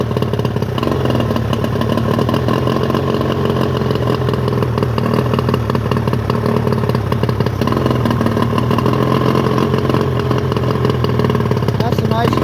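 An old 50hp Evinrude outboard motor idles steadily with a busy mid-range clatter, running loud and close for the whole stretch under talk.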